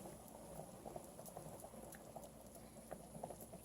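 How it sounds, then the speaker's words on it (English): Pork cacciatore sauce bubbles in a pan, a faint, close, steady stream of small pops and gurgles with irregular soft plops, no voices. "you can see that it is bubbling right away at this point"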